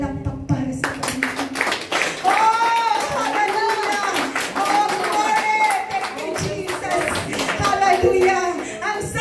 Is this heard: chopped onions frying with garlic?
no